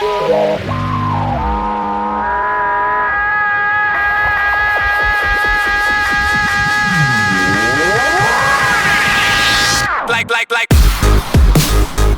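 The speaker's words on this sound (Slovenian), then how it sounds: "prepoznana predvsem po svojem brutalnem zvoku, ki ga proizvede boksarski motor" A rally car boxer engine revs hard and close with a brutal sound, pitch sweeping up and down through gear changes, ending in sharp, stuttering bursts.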